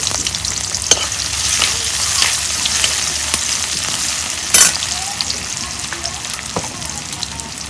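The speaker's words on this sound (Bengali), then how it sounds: "তেল গরম হচ্ছে, এখন আমি দিয়ে দিব পেঁয়াজ কুচি।" Chopped onions hit hot oil in a pan and fry with a steady broadband sizzle throughout, punctuated by a few sharp clicks and stirring taps, close and fairly loud with no talking.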